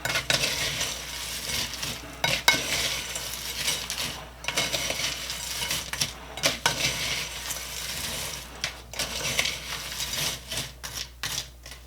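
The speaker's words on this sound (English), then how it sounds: "It's been 15 minutes, so we will give this another stir." Chex party mix scraped and stirred in a pan, a dry rustling, rasping clatter of cereal and pretzels that comes in repeated uneven bursts, close and fairly loud with no talking.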